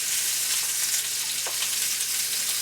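Polish kielbasa sausage fries and browns in a pan, giving a bright continuous sizzle with faint crackles, close and steady with no talking.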